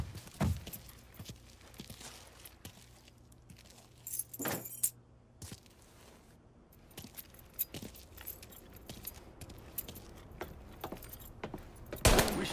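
Keys jangle in the Mafia 3 video game: several bright metallic jingles come in short bursts over steady ambient game noise, with the loudest shakes near the start, the middle and the end, and no talking.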